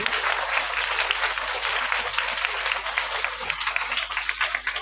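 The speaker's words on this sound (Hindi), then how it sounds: "ये भाई अपने टीचर के लिए जोरदार ताली बजा दीजिए।" Audience at a school motivational seminar applauding a teacher, dense steady clapping from many hands filling the room, moderately loud and sustained across the whole stretch with a faint murmur underneath.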